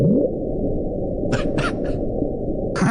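A dense, steady low rumble with several short, bright bursts rising over it: the ocean "bloop" underwater recording played back 16 times faster.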